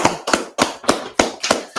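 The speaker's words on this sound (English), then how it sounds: "Let's clap it up." A crowd at an ISUPK street gathering in Washington, D.C. claps in unison, producing six or seven loud, sharp claps in a steady rhythm. The claps are close and crisp, with short silences between them.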